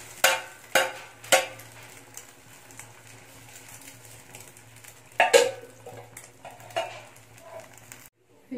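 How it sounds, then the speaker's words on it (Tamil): A kadai wok is set down on a stovetop with a few sharp metallic clanks and scrapes, then quieter kitchen clatter, with a steady low hum running underneath and a sudden drop to near silence at the end. "இப்போ இன்னொரு கடாய் வச்சுட்டு"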